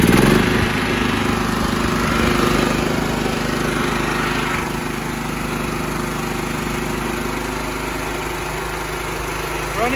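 A John Deere L110 lawn tractor with a Kohler 17.5 engine runs steadily and close by, a continuous loud mower-like drone with no talk over it.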